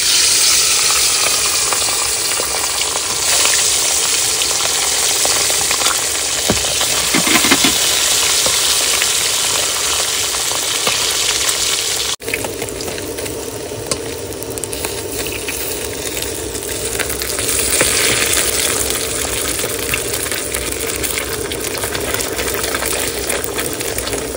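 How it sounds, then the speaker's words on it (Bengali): Fish fries in hot oil in a pan on a trip to the Sundarbans rivers, a loud, close, continuous sizzling hiss with bubbling crackle that dips briefly midway and then resumes steadily. "তেল গরম হয়ে গেছে আমার, এবার আমি ভেজে নেবো মাছ।"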